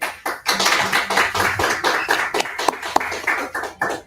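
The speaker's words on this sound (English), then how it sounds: "a round of applause once again." Audience clapping after a chimes performance at a talk on collective liberation: a steady patter of hand claps with sharp individual taps standing out, continuous for about four seconds with no talk over it.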